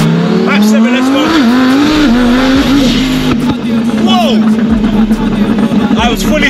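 A twin-turbo Lamborghini Huracan Performante on full boost roars loud and close under hard acceleration, its engine note holding strong with brief dips at gear changes. A voice briefly sounds over it.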